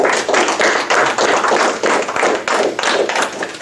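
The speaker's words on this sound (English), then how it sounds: "Give him a big round of applause." A few people in a small audience clap in a close, uneven burst of distinct, loud hand claps with a slightly rhythmic, pulsing feel.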